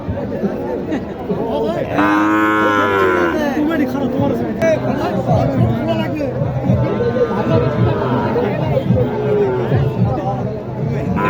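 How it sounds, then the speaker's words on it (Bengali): At a busy cattle market in Matajihat, Naogaon, a small local cow crossed with Red Chittagong cattle lets out a long, loud moo, then another shorter call later, amid constant crowd chatter and nearby talking. "ডাকতেছে ওনার গরুটা"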